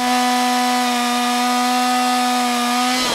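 A chainsaw carving wood runs at a loud, steady, high-revving drone, cutting without a break, and stops sharply at the end.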